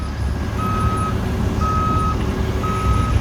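Reversing beeps from a large truck or crane backing up at a pier construction site, three long evenly spaced tones over a steady low engine rumble.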